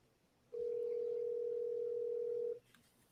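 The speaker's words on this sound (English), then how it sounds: "Ringing Sherrod Steve." A single outgoing-call ringing tone on a phone speaker sounds as one steady, even beep lasting about two seconds, with near-silence before and after.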